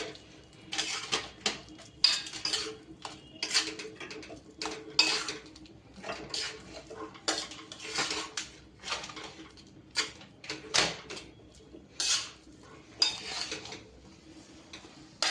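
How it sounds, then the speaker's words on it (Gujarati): Vada pav potato filling being mixed with green chutney in a bowl, with repeated clinks and scrapes of a spoon against the dish in quick irregular bursts, close and moderately loud, no talking. "હવે તેને મિક્સ કરી લઈશું। બધું મિક્સ થઈ જાય એ રીતે આપણે મિક્સ કરી લઈશું"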